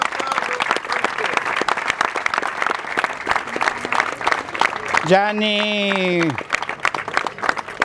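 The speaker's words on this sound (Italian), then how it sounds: "vorrei un applauso per te" Crowd applause at a women's rowing race prize ceremony in Marola, brisk clapping from many people, loud and close, with a voice speaking over it and a brief amplified sustained tone near the end.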